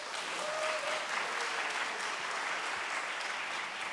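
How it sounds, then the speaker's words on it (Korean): Sustained, dense applause from a seated audience at a traditional Korean pansori performance, steady and fairly loud throughout with no pauses, the clapping blending into a continuous wash. "박수 한번 더"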